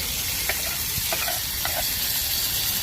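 Hot ghee and swollen raisins sizzle in a pan with the gas turned off, a steady crackling hiss with a few brief clinks of a spoon, close by.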